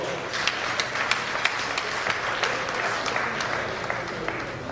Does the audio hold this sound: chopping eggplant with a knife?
no